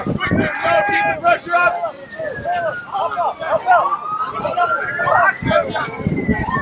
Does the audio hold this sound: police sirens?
yes